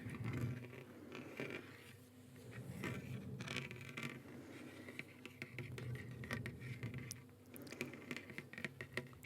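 Close, quiet scratchy scraping as fingernails trace engraved inscriptions on a metal blade, irregular ticks and rasps with soft rustling between strokes.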